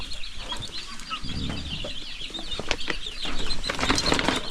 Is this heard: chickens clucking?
yes